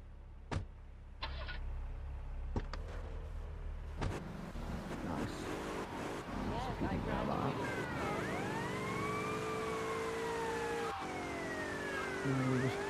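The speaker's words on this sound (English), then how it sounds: "there's a police car literally right there" Police car siren in GTA Vice City Definitive Edition, its wailing tone rising and falling through the second half over game engine noise and a few sharp impact sounds, with brief talk early on.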